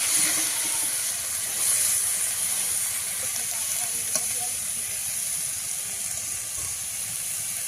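Garlic and green chillies frying in a pan for a mustard-flower mash, giving a continuous loud close sizzle and hiss of hot oil with one faint tap partway through.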